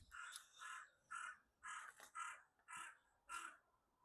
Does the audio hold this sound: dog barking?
no